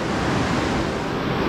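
Steady broadband rush of creek water flowing at a trail crossing beneath granite walls near Keeler Needle, a continuous close wash with no voices.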